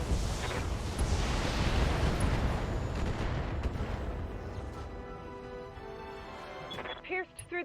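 Mech weapons firing in the Battletech video game, a dense stream of booming blasts and rumbling impacts that gradually thins toward the end, with a faint voice and electronic tones near the close.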